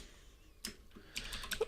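Quick keystrokes on a computer keyboard while coding a Java program: a sharp click near 0.65 s, then a faster cluster of taps from about 1.15 s to the end, close and fairly quiet.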